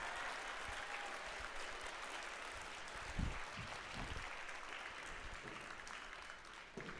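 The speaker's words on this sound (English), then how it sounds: "Won't you please give all of the adults here supporting you a round of applause?" Students on an FTC robotics team clap for the supporting adults at a Finger Lakes, New York qualifier, a steady, dense applause filling the hall for the whole stretch with a few sharper cheers near the middle.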